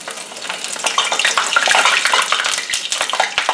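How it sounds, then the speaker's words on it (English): Loud, crackling sizzle of floured cauliflower frying in hot oil close up, a continuous bubbling hiss with sharper pops throughout. "So our cauliflower frying up."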